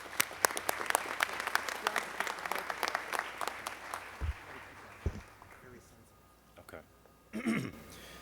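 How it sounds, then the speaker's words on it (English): A press conference audience at a youth summer jobs event applauds with dense steady clapping that fades out after about four seconds, followed by a few stray claps and brief talk. "a big round of applause to everybody"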